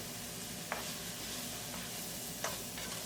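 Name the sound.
onion, green chilli and ginger garlic paste frying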